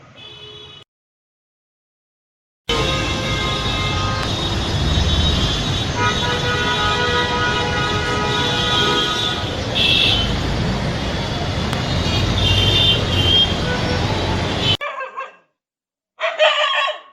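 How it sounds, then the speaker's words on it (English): Busy traffic noise with repeated car horns honking over a constant roar of engines, loud and continuous, followed by a couple of brief horn toots. "sound produced at the site of the traffic jam"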